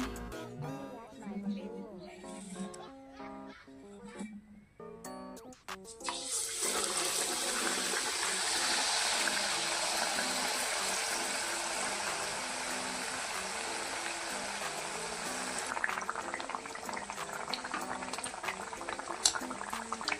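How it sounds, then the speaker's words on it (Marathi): Round vada pav vadas deep frying in hot oil over a very low flame, a steady broad sizzle and bubbling that swells after the first few seconds and carries on loudly, with brief kitchen clatter at the start. "एकदम बारीक गॅसवर तळून घ्यायला, म्हणजे खमंग तळला जाईल."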